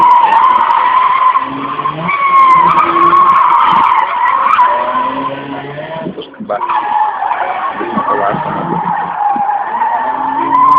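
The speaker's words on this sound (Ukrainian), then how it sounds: "автомобіль власного виробництва університета Олександра" Tires skid and screech from a university-built car at an autoslalom race in Ivano-Frankivsk, with a sustained loud squeal and engine noise through most of the stretch and a brief dip midway.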